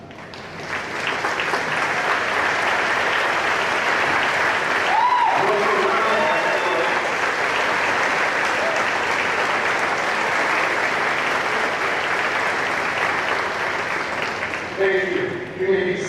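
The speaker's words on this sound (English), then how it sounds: "give you a massive pouring round of applause you thoroughly deserve" Large commencement crowd at a graduation ceremony giving a standing ovation, sustained loud applause with cheers and a few whoops, rolling on steadily and tapering near the end.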